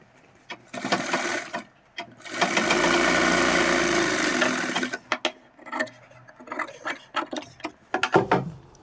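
A sewing machine stitches gents' underwear fabric with a one-thread seam margin, running in a sustained burst of several seconds after a few short starts, then giving way to soft clicks and handling noises.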